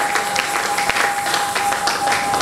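A church congregation at a Sunday worship service applauds in a steady, dense wash of clapping that stays full and even throughout, with a sustained tone running underneath.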